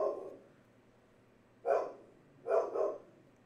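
Dog barks faintly from a distance, one bark followed by a quick double bark, muffled and picked up by an omnidirectional desk microphone in a quiet room.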